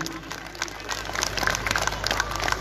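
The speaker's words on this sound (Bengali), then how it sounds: "জোরে একটা করতালি চাইছি" Audience applause after names are read out at an alumni reunion event, steady clapping from a crowd building over a couple of seconds with some background murmur.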